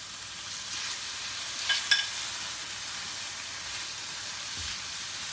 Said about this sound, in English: Give it a stir. And our green peppercorn.